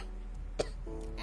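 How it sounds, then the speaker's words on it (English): One short, sharp cough from a man recording at home, a single burst in the middle of an otherwise quiet stretch with steady low hum. "And I still have this second cough."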